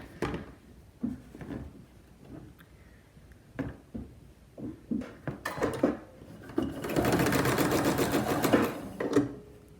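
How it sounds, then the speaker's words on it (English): Household sewing machine stitching a zigzag seam to join elastic ends for a mask, with short stop-start bursts of whirring. A longer steady run of stitching follows, close and fairly quiet. "Now we're going to use a zigzag stitch to zigzag those ends together."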